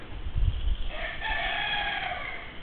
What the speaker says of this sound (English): Cock-a-doodle-doo to you too.